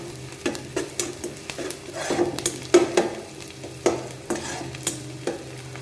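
Onions fry in a pan with cauliflower and potato cooking nearby, giving a low continuous sizzle broken by repeated scraping stirs of a spoon against the pan, close and moderately loud, with no talk.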